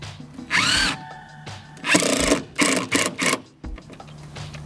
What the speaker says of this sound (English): So you can see how easy the screw went in there.